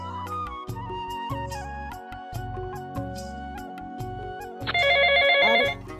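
A telephone rings repeatedly in a steady electronic pattern over background music, with a louder burst of ringing near the end.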